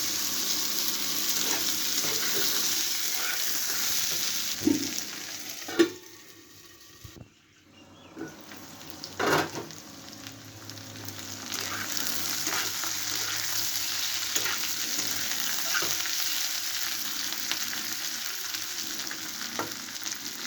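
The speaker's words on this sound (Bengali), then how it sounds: "এখন আলুগুলো আমার সেদ্ধ হচ্ছে, ভাজাও হয়ে গেছে।" Thin-cut potatoes fry in a pan with a steady, bright sizzle and occasional scraping stirs. The sizzle dips briefly midway, then resumes at a moderate level with no one speaking.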